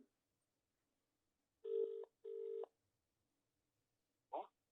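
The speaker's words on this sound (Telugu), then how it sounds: "ఫోన్ రింగ్ అవుతుంది" Two long electronic telephone ring tones sound in succession with a short gap, followed by a brief click-like burst, otherwise quiet.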